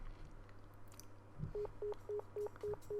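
A phone is dialed in the visual novel Nekopara, with six short, even keypad tones following a soft click, clear against quiet background hum.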